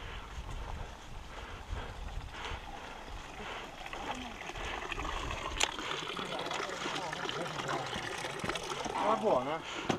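Water trickles from a drinking water spring on a mountain hike, a soft continuous splashing under wind noise and people talking nearby.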